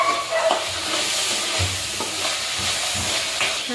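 Spices frying in a pan for palak paneer, a soft steady sizzle with light stirring scrapes, close but fairly quiet.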